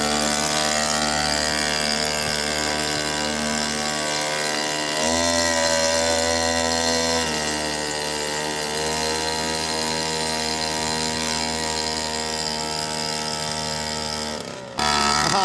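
A small gasoline engine on a pedal go-kart runs steadily with a buzzing, harmonic drone, revving up briefly partway through before settling and then cutting off near the end.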